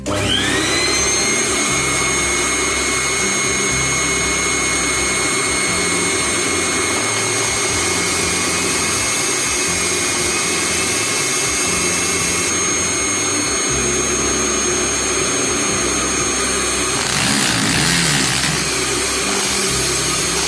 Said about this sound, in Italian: Accendiamo il nostro aspirapolvere e cominciamo.